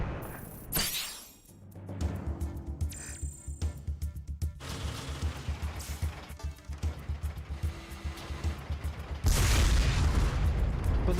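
A tank blown up in the video game Front Mission 4: low rumbling game audio and mechanical noise build up, ending in a loud, sustained explosive blast with no talk.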